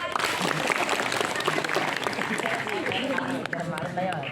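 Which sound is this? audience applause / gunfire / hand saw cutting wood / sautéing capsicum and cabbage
audience applause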